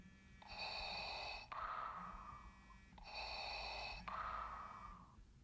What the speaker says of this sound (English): I think I do want the Darth Vader breath.